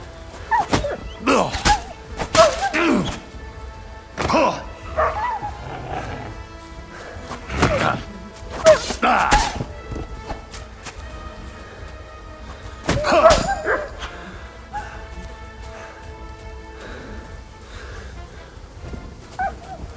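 Barks and yips from a dog companion in the medieval game Kingdom Come: Deliverance 2, coming in scattered bursts over steady game ambience.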